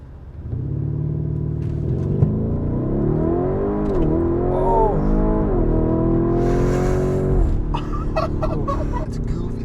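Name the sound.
Lamborghini Urus SUV launching and accelerating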